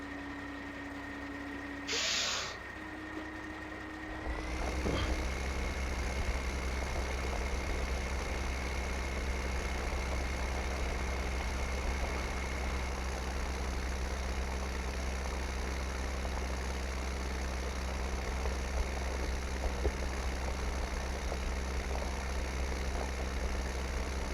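A tractor engine idling in the video game Farming Simulator 15, a steady low rumble that starts after a short quieter stretch with a brief tone and then holds evenly to the end, with no one talking.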